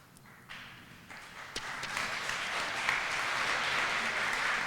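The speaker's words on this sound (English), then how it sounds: "I think that's known as a flutter of applause there, Puma." Light, scattered applause from a lecture audience rises into a soft, steady patter of clapping, heard alone and fairly distant.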